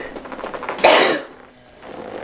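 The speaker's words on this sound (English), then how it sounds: "that was like a powerful sneeze" A single powerful sneeze bursts out close and loud, a sharp explosive blast with a short tail, between quiet moments.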